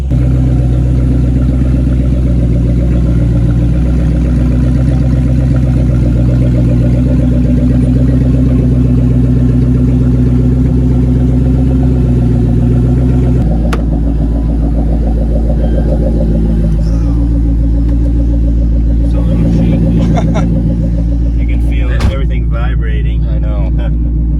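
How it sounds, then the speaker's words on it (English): A Ford Mustang Bullitt with an X-pipe, Magnapack mufflers and high-flow cats rumbles loudly and steadily at idle, a deep throaty exhaust drone that shifts and wavers slightly partway through. "this car does have high flow cats on it, so it's actually not as loud as it could be"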